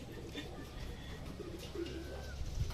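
Soft, low cooing from pigeons close by during racing pigeon toss training, a few murmuring calls over faint background noise.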